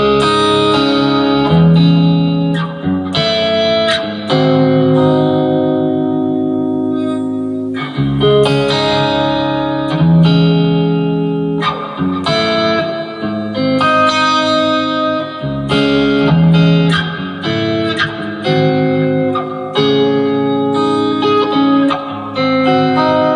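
An electric guitar plays rhythm chords through heavy reverb, giving a washy sustained tail. The strummed phrases continue without a break, with brief gaps between chord groups and no speech.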